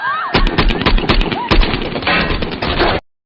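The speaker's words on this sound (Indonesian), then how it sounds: "aksi tembak-tembakan pun terjadi" Gunfire rattles through an action film scene in rapid, loud bursts of shots, with a few brief vocal sounds mixed in, before cutting off abruptly into silence.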